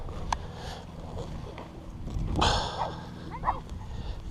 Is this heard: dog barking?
yes